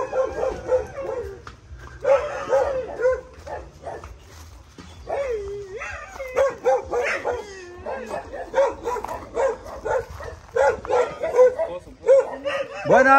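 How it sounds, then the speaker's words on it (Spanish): Small dogs at a home in Chiapas, Mexico, yip and bark in quick, excited bursts with some whimpering, close and lively, while people talk over and between the barks. "No morderán los perritos."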